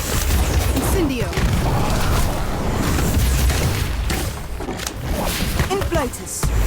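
An Incendio fire spell cast in the game Harry Potter: Magic Awakened, heard as dense booming, crashing bursts that fill the clip under a speaking voice.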